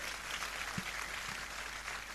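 Applause from an audience at a large educational institute gathering in India, a fairly faint, steady patter of clapping running continuously.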